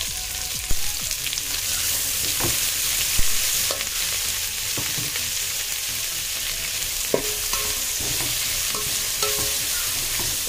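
Three large sliced onions frying in hot oil for kapsa, a dense close sizzle broken by scraping stirs and a few sharp utensil clicks against the pan, with no voices.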